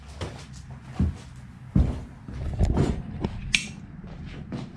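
A DeWalt tool chest shelf drawer from the 41559 accessory kit slides open and shut, giving a series of sharp clacks, thuds and rolling scrapes at close range with no talking.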